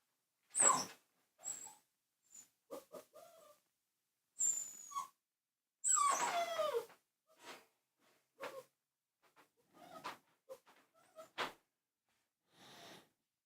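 A dog in a kennel whimpers and whines in short, separate bursts, some higher and drawn out, close by in an otherwise quiet room with no talking.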